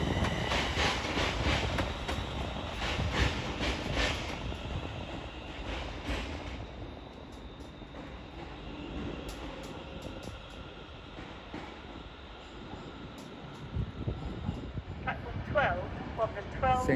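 An Avanti West Coast train from Glasgow Central arrives and terminates at London Euston, a low rumble and rail clatter under station hubbub, with clicks and a faint whine toward the end.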